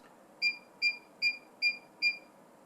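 A SmokeSight SS10LNAN wireless smoke alarm gives five evenly spaced high-pitched beeps, clear and alone against a quiet room.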